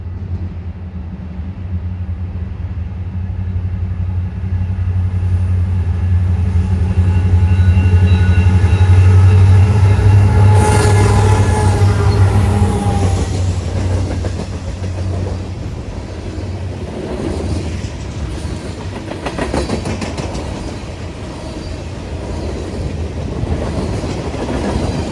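Wisconsin & Southern freight train led by SD60M locomotive 6026 heading northbound at night, a loud low engine rumble building and passing with a horn-like tonal blast mid-way, followed by rolling wheel clatter of cars.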